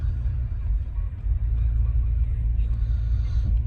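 A car drives along a city road at dusk, its engine and tyre rumble a steady low drone from inside the cabin, with no other distinct sounds standing out.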